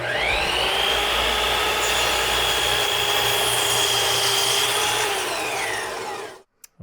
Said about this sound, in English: I'll cut some 15-degree bevels on the ends of each of the legs, and I'll do that at the miter saw